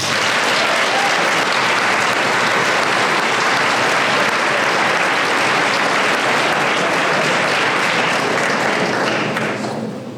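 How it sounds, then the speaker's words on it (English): A full room applauds scholarship presenters at a senior awards ceremony, thick continuous clapping, loud and even throughout, tapering slightly at the very end. "So I want to give them a round of applause"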